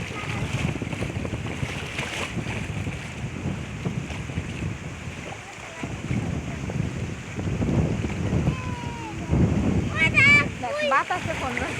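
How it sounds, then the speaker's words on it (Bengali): Strong storm wind buffets the microphone over choppy river waves on a boat, a continuous loud roar and wash throughout, with voices talking intermittently over it. "এত বাতাস আর ঢেউ, ওরে বাবা"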